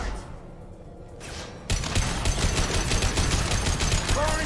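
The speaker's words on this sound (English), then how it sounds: "Firing concussive shot" Concussive shot fired in Mass Effect 2 combat: a sudden loud blast cuts in partway through, followed by a dense, continuous barrage of gunfire and impacts.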